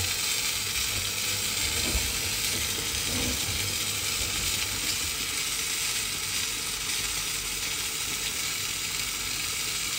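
Steady loud sizzle of an egg frying in a hot pan for a tuna egg dish, continuous crackling throughout with no talk.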